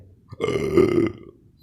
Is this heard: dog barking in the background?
no